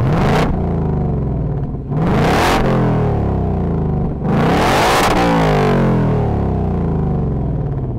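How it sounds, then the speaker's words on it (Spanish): Ford Mustang Dark Horse with its exhaust in sport mode, loud and near, snapping through three sharp revs that fall back to a deep, steady rumbling idle. "Y así es que suena en modo sport."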